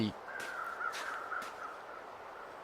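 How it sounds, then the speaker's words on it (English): Crows circling overhead in the video game The Long Dark give several drawn-out caws, moderately distant, over a faint steady ambient backdrop. "Whenever the birds are circling, it means that there is a corpse over there."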